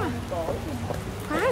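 Rain patters down in a steady, soft hiss while people talk nearby over the sound.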